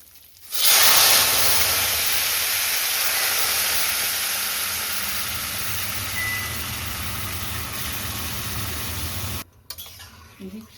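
Raw moong dal hits hot oil tempered with asafoetida, starting a sudden loud sizzle that holds steady and slowly fades before cutting off near the end.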